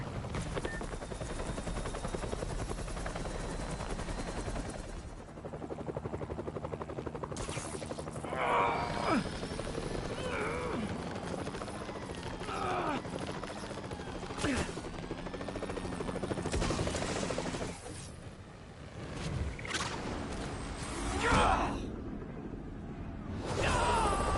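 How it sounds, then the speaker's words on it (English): A helicopter being stolen in Marvel's Spider-Man video game drones with a continuous rotor chop, joined by bursts of gunfire, impacts and action sounds that swell and fade across the scene. "They're stealing a chopper."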